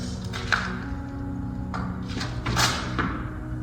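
A ball is thrown against a wall during an adult training drill and drops to the floor, with a few hollow thuds and bounces spread over a few seconds in a reverberant room.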